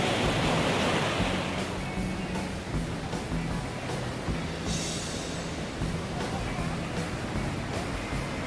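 Kaiate Falls in Tauranga, New Zealand, where water tumbles down into a pool below, gives a steady broadband rush of falling water that stays loud and continuous throughout, with faint voices now and then.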